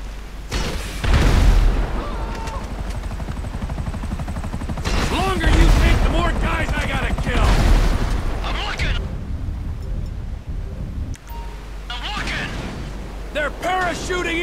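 Rapid gunfire bursts and booms rattle through a GTA 5 mission, loud and dense, with heavy bursts swelling and fading over a constant rumble and voices talking under the shooting.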